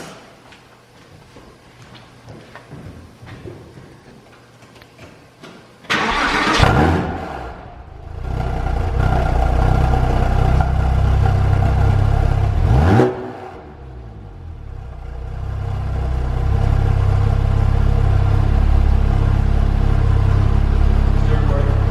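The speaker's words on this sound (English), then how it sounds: "I'm gonna do a warm startup now, just so you guys can hear that" A flat-six car engine with an aftermarket SOUL Performance exhaust cranks and catches after a quiet stretch, roars up with a loud, throaty exhaust, blips once, then settles into a deep, steady idle close by.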